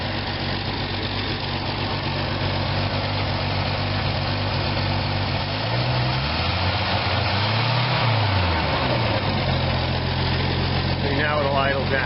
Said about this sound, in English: Now it'll idle down, okay, because the choke is on a little bit.